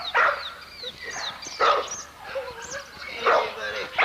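Bulldozer, a 14-month-old, roughly 55-pound kennel dog, lets out several close, high whimpers and yips in short bursts at a kennel yard.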